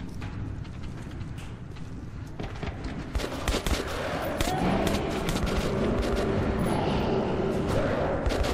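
Dense, sustained gunfire in Metro 2033 Redux as beasts attack, shots blending into a loud, continuous clatter with mechanical clicks and a busy game soundscape throughout.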